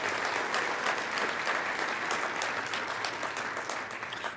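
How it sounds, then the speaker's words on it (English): Conference room audience clapping for a general sponsor, a brisk dense round of applause with sharp individual claps, holding steady then tapering at the end. "If we could clap again for their general sponsorship,"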